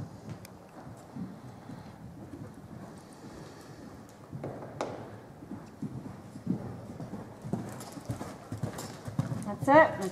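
A horse's hooves clip-clopping on the ground during a jumping riding lesson, faint and irregular under an instructor's voice, with light wind noise.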